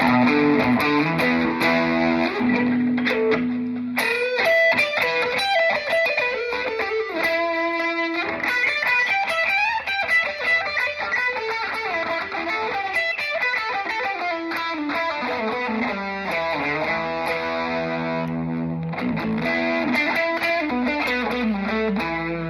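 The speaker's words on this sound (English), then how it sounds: "You can still hear I've got the gain distortion pedal engaged" Telecaster electric guitar through a gain distortion pedal, playing sustained chords and quick riffs, loud and gritty throughout with no voice.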